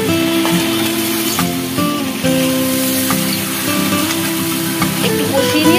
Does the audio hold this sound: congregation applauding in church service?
no